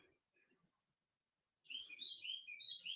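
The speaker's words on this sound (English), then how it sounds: "That little bird is doing this thing out there, ain't it?" A small bird chirps outdoors, a few faint notes at first, then a brighter quick run of chirps after a brief silence, heard alone.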